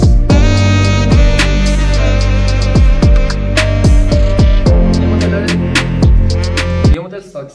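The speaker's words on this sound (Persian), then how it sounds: "این صدای ترومپته" Brass lead in a played Persian pop song, loud sustained notes with sharp attacks over steady harmony and bass, ending abruptly near the close.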